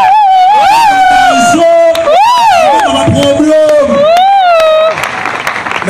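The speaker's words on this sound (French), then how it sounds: "On acclame Jésus." Crowd at a Christian church gathering in the Unikin university amphitheatre in Kinshasa, loudly acclaiming Jesus with ululating, rising and falling voices that carry steadily for about five seconds before tailing off into general noise.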